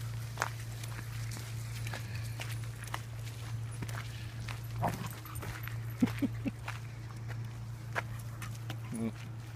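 Dogs out on a morning walk, with scattered footsteps, paw and collar sounds and small dog noises over a steady low hum, while people talk intermittently.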